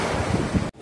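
Strong sea waves washing onto a beach, a loud, continuous rushing roar with wind buffeting the microphone, cutting off abruptly near the end.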